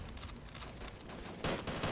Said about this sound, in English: So, gunshots being fired.